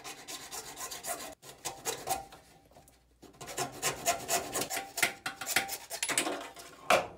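A pipe is sanded by hand with 180 grit sandpaper, making close, rhythmic rasping strokes. The strokes stop briefly partway through, then resume faster.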